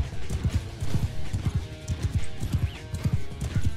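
Horses gallop in the Mount and Blade 2: Bannerlord video game, with dense rapid hoofbeats close and loud and a brief whinny mixed in over game ambience.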